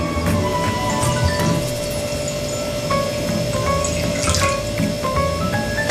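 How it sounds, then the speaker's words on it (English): Water trickles and drips into a shallow dish, a close, steady pouring patter with small splashy drops and no talking. "pour the water into your bowl"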